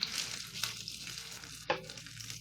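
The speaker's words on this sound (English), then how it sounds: "Now I start adding the meat and shaping." Ground beef patties fry in hot oil in a skillet over low heat, giving a steady close sizzle and crackle with a few sharper pops as the meat is pressed into shape.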